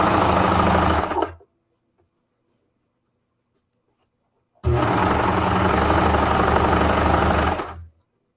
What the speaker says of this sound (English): It is super easy on the serger, super fast, and you get really nice clean